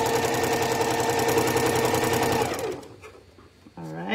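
A sewing machine stitches steadily at a fast, even pace for about two and a half seconds, then slows and stops, followed by a short voice at the end.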